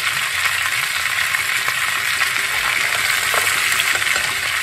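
Raw banana and carrot frying in a pan, with a loud, dense, steady sizzle throughout and faint stirring underneath, close up and without talk.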